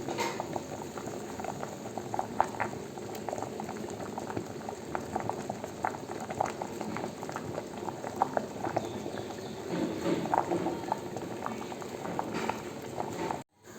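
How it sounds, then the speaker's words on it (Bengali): Rice bubbling steadily in a pot on a gas stove in a home kitchen, a continuous close simmering burble with small pops, no one talking. "দেখো ভাত আমার ফুটছে"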